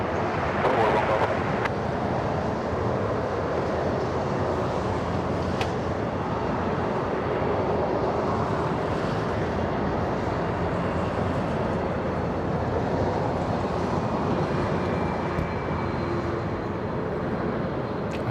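A French Bee airliner taxiing at LAX, a continuous broad jet engine rumble and hiss heard from a distance, steady for the whole stretch with faint background noise.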